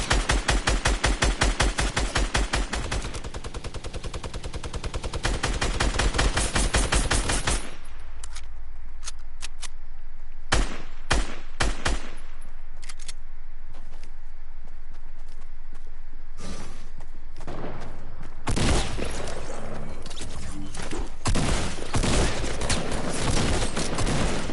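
Rapid bursts of gunfire in a shooter video game, loud automatic volleys broken by short gaps and single shots, with footstep-like clatter between.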